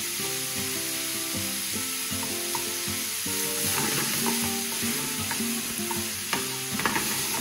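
Onions, peppers and tomatoes cook in a pan with a continuous soft sizzle and stirring scrapes, while tonal background music plays throughout.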